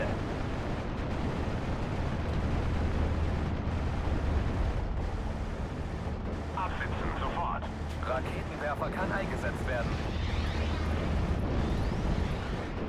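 Artillery explodes continuously in Steel Division: Normandy 44, a WWII strategy game battle at Carpiquet: dense, rolling booms and rumble with steady loudness, while someone talks over the barrage.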